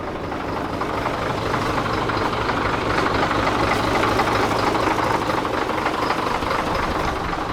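A Ford L9000 dump truck's diesel engine runs steadily after a cold start, a loud, close, continuous rumbling idle with no talk over it.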